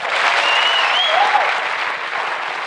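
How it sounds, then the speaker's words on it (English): A crowd claps enthusiastically in a steady burst of applause, with a few faint whistles or cheers mixed in. "Round of applause."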